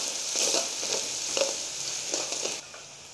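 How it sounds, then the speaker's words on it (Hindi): Ground garlic and ginger fry with golden onions in a pan for a kadu gosht (pumpkin and meat) curry, giving a steady, close sizzle with small crackling bursts that eases toward the end. "अब हम इसमें पिसा हुआ लहसुन डालेंगे।"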